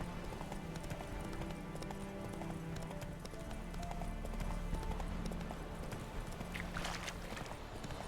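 A horse's hooves clip-clop at speed in The Witcher 3 video game, a rapid continuous gallop under soft background game sounds, with a brief voice near the end.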